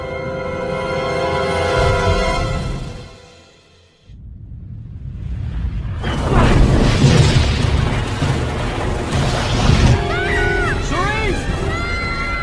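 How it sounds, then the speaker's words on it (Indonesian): A giant meteor exploding in the animated film Dinosaur (2000), a heavy booming blast and rumble that cuts out and returns as a roaring, chaotic din under a film score, with cries and crowd-like babble. "meteor raksasa jatuh dan meledak dengan ledakan yang begitu"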